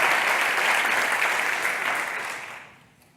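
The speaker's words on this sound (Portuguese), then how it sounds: "Uma salva de palmas para eles." An audience gives a round of applause at the conclusion of a think tank session, a full, close clapping wash that holds steady and then fades out toward the end.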